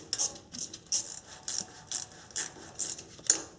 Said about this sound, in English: I'll just use a wrench and I'll come right back once I remove all these fasteners.